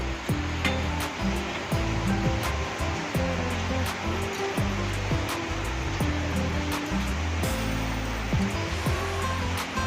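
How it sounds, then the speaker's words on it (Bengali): Hot water pours into a pan of cooking chicken curry, making a continuous rushing, gushing wash with crackles of sizzle underneath, loud and close for the whole stretch. "এই অবস্থায় এখানে অ্যাড করে দেবো আমি গরম জল"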